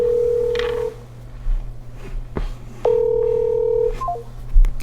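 A telephone call is placed: steady tones and a burst of keypad dialing, then a long ringback tone repeating as the line rings unanswered, clear and close with faint background noise and no talk.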